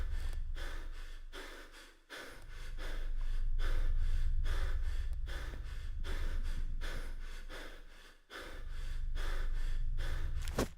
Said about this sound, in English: just so we don't have to hear the panting endlessly